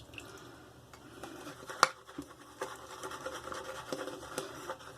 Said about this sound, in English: I'm going to drip it with my fingers.